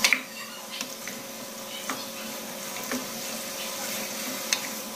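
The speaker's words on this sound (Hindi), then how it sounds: "ये जो बीफ बॉयल हुआ हुआ ये सारा डाल दूंगी और इसे भूनना शुरू करूंगी" Boiled beef pieces and tomatoes fry in a pan for a white beef karahi, a steady close sizzle with occasional stirring scrapes, no talking.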